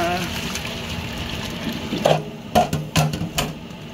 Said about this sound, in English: run cold water over that